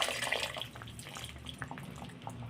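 Thick tamarind water pours and splashes into pirandai thokku in a cooking pot, a steady close liquid trickle with small drips and no talking.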